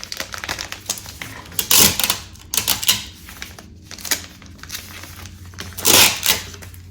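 Packing tape rips off the roll and is pressed onto the corners of a shipping package in several loud tearing bursts, with rustling and crinkling in between.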